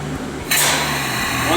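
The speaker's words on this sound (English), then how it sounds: "So you pull the trigger, it will begin to mix. It'll take a little bit to mix the material out to the gun." A Graco ProMix PD2K proportioner mixing two-part coating material and pushing it out to the spray gun, heard as a steady broadband hiss that starts abruptly and holds continuously at close range over a low hum.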